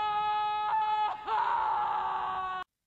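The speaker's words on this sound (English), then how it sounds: "Oh, that scream is powerful." A scream from a Game of Thrones episode, season 2 episode 2, plays as a long, loud, high wailing cry that swells and breaks once before cutting off abruptly, heard alone with no talk over it.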